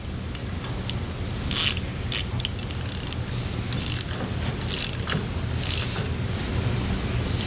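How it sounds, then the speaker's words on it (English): A 19mm socket and ratchet wrench tighten hitch bracket bolts on a 2021 Ford F-450, with rapid close clicking ratchet strokes in uneven bursts over a constant loud background hum. "We now want to grab a 19mm socket and wrench and just get these tightened down."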